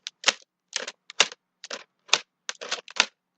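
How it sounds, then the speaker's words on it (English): A plastic Disney-style clamshell VHS case being opened gives a quick series of sharp, close plastic clicks and snaps, about nine crisp bursts in uneven rhythm against silence. "That's the sound of me opening up a VHS case"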